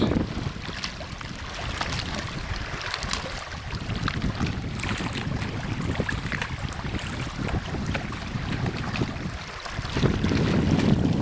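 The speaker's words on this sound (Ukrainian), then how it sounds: "Послухаємо хлюпіт-хлюпіт води" Water of Lake Tiberkul laps and splashes steadily close by, a continuous broadband wash mixed with wind buffeting the microphone, getting a little louder toward the end.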